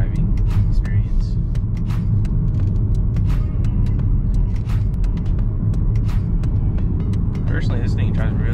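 A 2021 Audi Q5 SUV cruising on the road, with a steady low engine and tyre rumble continuing throughout, plus faint clicks and someone talking over it.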